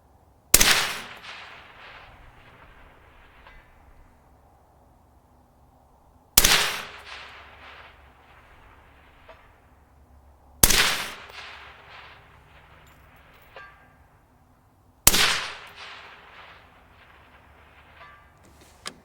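Four suppressed shots from a Mk12 Mod 0 SPR rifle ring out at outdoor range practice, each a sharp loud crack followed by a decaying echo, spaced several seconds apart.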